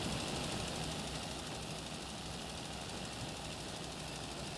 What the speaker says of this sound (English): you can see the tractor is struggling a bit while pulling the lime spreader